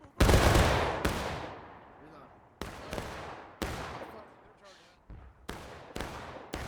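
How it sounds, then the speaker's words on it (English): Musket volleys crash out in a Civil War battle in War of Rights, several sharp, loud bursts spaced a second or so apart, each trailing off in a long rolling echo, with more distant shots scattered between. "Powerful volley coming in, hitting, looks like Panther and his boys."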